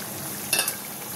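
Fish cooks in a pan with a soft, steady sizzle and a brief scrape or clatter partway through, close and fairly quiet, with no talking.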